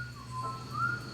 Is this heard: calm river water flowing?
no